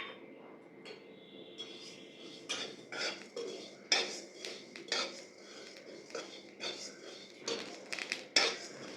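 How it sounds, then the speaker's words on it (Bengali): Cumin, mustard and fenugreek seeds dry roasting in a pan, stirred with a utensil that scrapes and clinks against the metal in irregular, sharp taps, fairly quiet with a faint voice at times. "জিরে, সর্ষে আর মেথিটাকে ভেজে নিচ্ছি।"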